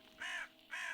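A crow outdoors near a cemetery gives two harsh caws, each about a third of a second long with a short gap between them, moderately distant and alone without talk.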